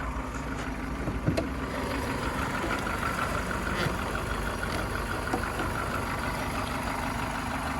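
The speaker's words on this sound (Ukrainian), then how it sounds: "Робота двигуна, двигун працює ідеально." Skoda Fabia 1.4 engine idling steadily, a constant low rumble with a smooth even hum and a brief faint knock near the start.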